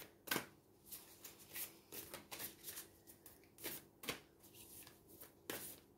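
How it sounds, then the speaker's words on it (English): Crisp riffling bursts of a card deck being shuffled, several quick ripples with short pauses between them, close and fairly quiet. "So I'm going to shuffle them now"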